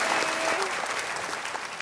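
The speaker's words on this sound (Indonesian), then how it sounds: "Boleh kasih tepuk tangan sekali lagi." Studio audience applause on an Indonesian talk show, a steady dense wash of clapping filling the whole stretch with a faint voice briefly underneath.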